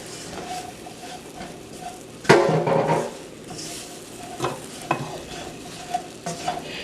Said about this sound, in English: turning the tempeh as you add the milk